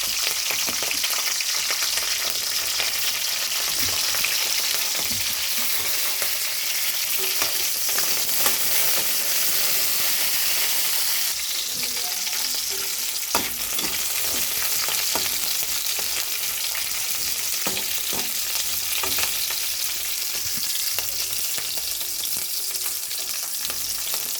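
Green chillies fry in hot oil in a pan, a loud continuous sizzle with faint stirring scrapes, steady throughout and with no talking.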